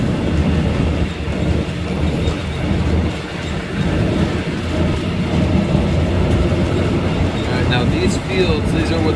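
Border train running from Bangkok toward Poipet on the Cambodian border: a steady loud rumble of wheels on rails with rattling carriages and occasional squeals, heard from inside with people talking faintly.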